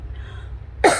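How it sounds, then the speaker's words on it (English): A single sharp cough, close and loud, bursting out abruptly after a moment of quiet room tone. "sorry I keep coughing"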